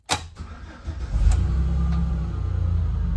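A 2008 Chevy Express van engine restarts: a brief starter crank, then the engine catches into a loud, steady low rumbling idle with a rhythmic pulse, close and alone without talk.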